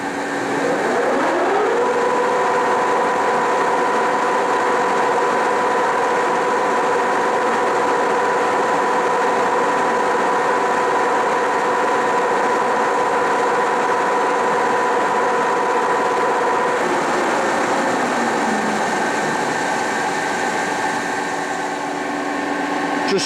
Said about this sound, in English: And we're up to the highest spindle speed on the machine,